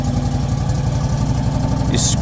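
A Kohler engine runs at a steady idle just after starting, its low rhythmic chug loud and constant, with a brief higher hiss near the end.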